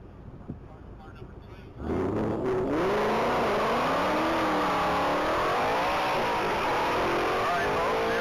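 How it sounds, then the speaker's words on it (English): A 2022 Ford Mustang, making about 1,000 horsepower, at a mile-long top-speed racing event, bursts in with a loud rising engine roar and climbing revs that hold strong to the end. "That is a 2022 Ford Mustang."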